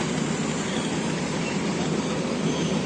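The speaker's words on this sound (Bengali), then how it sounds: "আর এই যে বেগুনকোদর স্টেশন দিয়ে এখন ট্রেন যাচ্ছে" A train runs through Begunkodar railway station in Purulia, a steady broadband rumble of rolling wagons that stays loud and constant for the whole stretch, with no voices over it.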